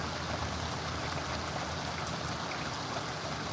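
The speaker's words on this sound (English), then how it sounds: "Man, it's raining hard as shit now." Heavy rain pours down outdoors in a dense, constant roar that holds steady throughout, close and loud, with no talking over it.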